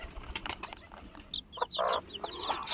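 Thin, high-pitched chirps of small chicks peep in quick bursts, following a stretch of soft rustling and fluttering.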